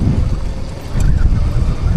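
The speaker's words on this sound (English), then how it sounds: "Oh, it's so windy though." Strong wind gusts outdoors on a big hill beside a road, roaring and buffeting close against the microphone without a break, with a short lull before the blustering comes back hard.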